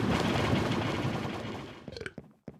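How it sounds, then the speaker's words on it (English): In the Minecraft video game, cobblestone dumps into cauldron machinery with a dense, rapid rattling clatter that thins into a few separate clunks and taps. "that's all that noise you hear when I go over there is cobblestone getting dumped in the cauldron, melting down."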